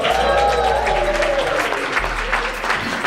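A comedy club audience claps and cheers loudly and continuously as a comedian takes the mic, a dense wash of applause filling the room for a few seconds.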